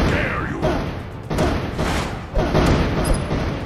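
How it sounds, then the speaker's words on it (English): Booming explosions from the tower-defense video game Kingdom Rush Vengeance, a dense run of loud thuds and blasts one after another, several sharp hits standing out against a constant rumbling background of game noise. "Explosions!"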